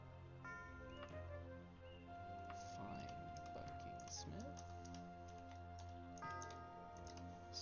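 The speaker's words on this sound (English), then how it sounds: "Sorry if the keys are a little loud" Computer keyboard keys clatter in quick irregular bursts of typing, close and fairly loud, layered over steady game music with tonal chimes.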